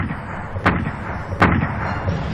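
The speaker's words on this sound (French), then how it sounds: "Ils vont être la cible d'un bombardement précis de l'artillerie de Bradley." Artillery bombardment from a World War II battle in the Ardennes: two heavy, distant booms spaced under a second apart, each a sharp crack over a constant low rumble of background noise.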